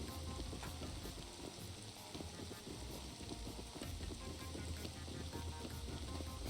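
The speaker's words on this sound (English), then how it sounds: "This the rain sounds." Steady rain falling in the Rust survival video game, a dense, even hiss that holds at the same level throughout with no voices over it.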